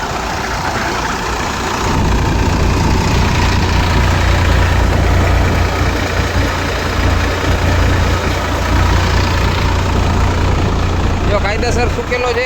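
A tractor engine drives a Shaktiman thresher fitted with a 4 mm sieve, threshing dry bajra in a steady, loud, unchanging drone that holds throughout, with a voice talking over it.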